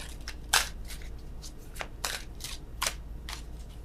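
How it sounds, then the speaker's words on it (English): Tarot cards are shuffled in several quick riffling bursts, close and crisp, separated by short pauses. "Oh, worst shuffling in the world."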